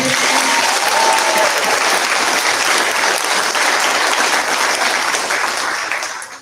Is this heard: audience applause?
yes